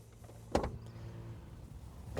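A Ford Focus ST rear door window closes on its own after the door shuts: a loud door thud followed by a steady motor hum, then another thump at the end.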